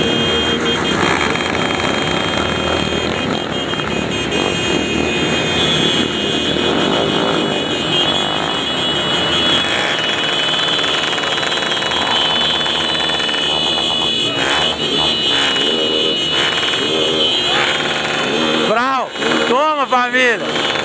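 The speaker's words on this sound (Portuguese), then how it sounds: "Comboio pequeno de poucas motos tá fazendo essa zoeira." Loud, continuous roar of a small motorcycle convoy revving together, with shouting voices over the din and sharp rising revs near the end.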